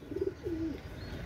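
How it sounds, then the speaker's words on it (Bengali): A Pakistani Rampuri pigeon coos close by, first a short burbled note and then a longer, smooth, low coo, over faint background hum. "পাকিস্তানি রামপুরি কবুতর দেখেন ভিউয়ার্স, অসাধারণ কবুতর"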